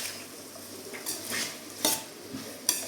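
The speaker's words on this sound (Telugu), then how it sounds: "మంచిగా ఫ్రై అయ్యేంత వరకు ఫ్రై చేసుకోవాలి." Paneer biryani ingredients frying in a pan give a soft, steady sizzle, broken by a few sharp scrapes and clinks as a spatula stirs them. The sound is close, moderately quiet and without talk.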